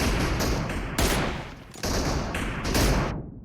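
Rapid, dense gunfire from a PUBG match during an M24 tournament: a continuous volley of shots with louder bursts near one, two and nearly three seconds, then a sudden cut to quiet.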